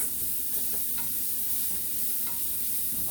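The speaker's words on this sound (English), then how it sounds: "Let that simmer for a second or for a couple of minutes." A pot of quick low-carb miso soup simmers steadily, a dense, even hiss with faint bubbling and occasional soft pops, close and constant throughout.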